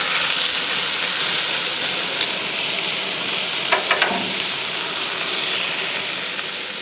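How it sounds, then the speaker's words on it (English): Tomahawk pork chops searing in a hot pan, a steady broad sizzle holding throughout with a few brief crackles and pops near the middle, close and fairly loud with no talking. "So let me move this guy over here and sear that up pretty good, okay?"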